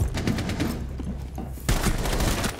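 Rapid gunfire in Rainbow Six Siege sounds as a loud burst of close shots. A short pause is followed by another dense volley, with no talk.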